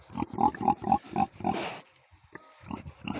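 Pigs on a ranch grunt in a quick run of close, loud snorts and oinks, then pause briefly before another short burst of grunting, heard alone without talk.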